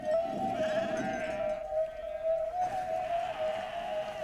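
Sheep bleating in a flock, a couple of drawn-out wavering bleats near the start and again after midway, clear and fairly close over a steady high tone in the background.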